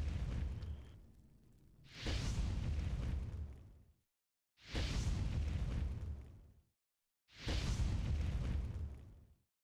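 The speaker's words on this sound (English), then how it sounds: "Maybe we'll drop some more bombs into him real quick." Bombs explode on a crab in a sci-fi video game: three heavy, rumbling blasts, each lasting about two seconds with a hissing tail, separated by brief silences, loud and close, with no talk.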